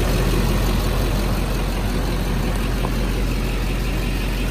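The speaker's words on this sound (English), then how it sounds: "Allison Auto Duramax diesel. Engine runs flawlessly." A 2006 Chevrolet Silverado 2500 pickup's 6.6 Duramax turbo diesel engine idles steadily up close, a constant low rumble with a diesel clatter and no other sounds.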